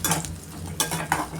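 Garlic and shallots are stirred as they fry in a pan, with a steady close sizzle throughout and a few soft scrapes of the spoon against the pan.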